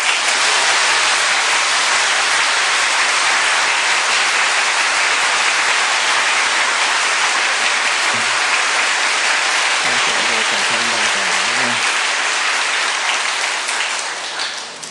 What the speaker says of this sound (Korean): 오늘 나오실 때 힘찬 박수로 환영하겠습니다.